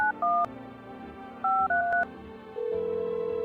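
Telephone keypad dialing tones in the video game No I'm not A Human, two quick clusters of loud beeping button presses followed by a steady held tone, close and clear with no talking.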